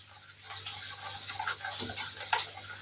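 Rainwater is poured into a container to dissolve a small dose of potassium monophosphate, a soft steady splashing trickle close by, with no talking.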